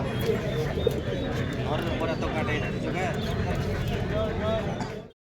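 Pigeons coo and flutter at a busy pigeon market in Nowhata, Bangladesh, their steady calls mixed into constant crowd chatter and bargaining voices throughout.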